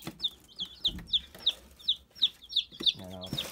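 Young chicks in a new coop peep in a quick run of sharp, high, evenly spaced calls, close and clear, with light handling noise beneath.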